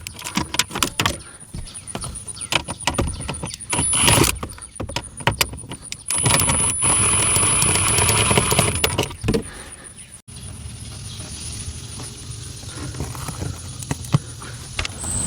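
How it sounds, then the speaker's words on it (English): Small 7mm screws are removed from the instrument cluster bezel of a Ford Ranger dash, heard as close metallic clicks, rattles and jangling handling sounds, with a steadier stretch of noise in the middle and no speech. "remove three 7mm screws from an instrument cluster bezel"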